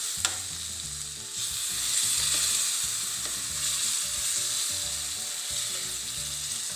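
Freshly ground spice paste hitting hot oil in a pan for a breadfruit and duck egg curry, a loud steady sizzle close by that swells after the paste goes in, with soft low clatter of stirring.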